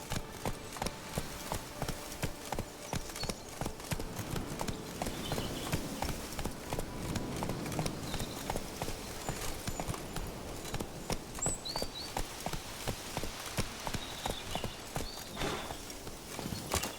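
Horse hooves in The Witcher 3: Wild Hunt clip-clop steadily in a quick repeating rhythm, close and moderately loud over a busy ambient game soundscape with no talk.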